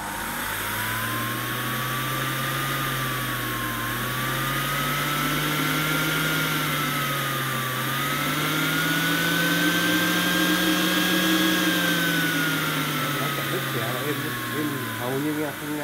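National MJ-120 blender juicer running steadily, a continuous motor whine that rises and falls slightly in pitch over about sixteen seconds, fairly loud and close.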